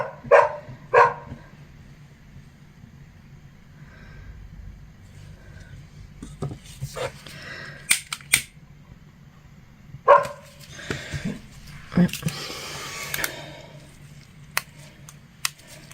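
Dogs bark outside an open window, scattered short barks and yips at a distance over a low steady hum, coming in separate clusters rather than a continuous chorus.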